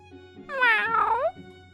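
A woman imitates a cat with a single drawn-out meow that rises and then falls. It is clear and close, with nothing else behind it but a faint background tone.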